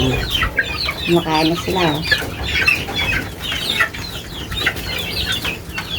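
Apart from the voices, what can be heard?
chicks peeping in their coop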